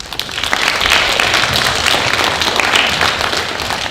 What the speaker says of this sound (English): Give Abby a clap